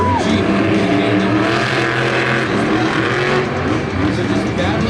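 A Monster Jam monster truck at a stadium show in Anaheim roars steadily and loudly throughout, engine held at high revs with crowd and arena noise beneath and a faint announcer voice.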